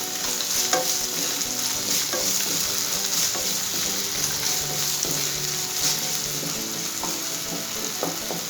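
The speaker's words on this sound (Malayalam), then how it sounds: "കുറച്ച് ഉപ്പ് ആവശ്യത്തിന്, എന്നിട്ട് ജസ്റ്റ് ഒന്നിങ്ങനെ ഇളക്കി കൊടുക്കണം" Food stirred in a hot pan after a pinch of salt goes in, with continuous sizzling and frying under repeated scraping strokes of a spoon, close and steady for several seconds with no talking.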